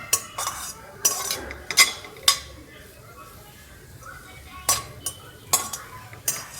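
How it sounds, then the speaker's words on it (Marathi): Capsicum, cabbage and onion being stir-fried in a pan for hakka noodles: sharp, irregular clinks and scrapes of a spatula on metal in quick clusters, with soft talk between them and little sizzle. "शिमला मिर्च, कोबी चिरलेला, कांदा सगळं परतून घ्यायचं चांगलं."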